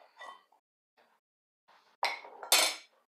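A metal spoon clinks against a saucepan as salt is added, giving a few separate bright taps and scrapes with quiet gaps between them and two louder clanks near the end.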